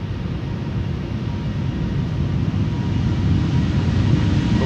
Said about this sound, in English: this is Delta Airlines Flight 73 going to Atlanta, Georgia